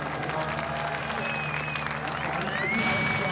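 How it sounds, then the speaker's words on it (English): A crowd at a drift competition cheers and applauds in a broad, steady roar heard over a live commentary feed, with brief whistles rising above the noise and commentators talking over it. "Crowd cheering loudly here"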